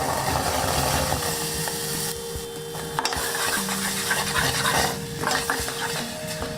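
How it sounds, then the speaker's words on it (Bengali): Blended beetroot being stirred into lightly fried semolina in a pan for a beetroot halwa, giving a steady close scraping and stirring with faint sizzling, with no voices. "এখন এর মধ্যে অ্যাড করে দেব ব্লেন্ড করে রাখা বিটরুটগুলো"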